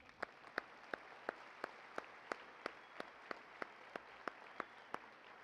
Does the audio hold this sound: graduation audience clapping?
yes